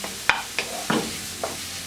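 Onion with ginger-garlic paste sautéing in a pan, with a soft sizzle under four distinct scraping spatula strokes spaced roughly evenly, close and clear without voices.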